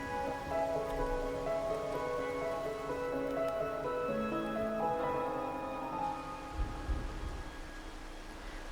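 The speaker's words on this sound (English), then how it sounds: "As the rain finally ceases" Rain falling in the video game Wuthering Waves, a soft continuous patter under gentle sustained music tones, with a low rumble rising near the end.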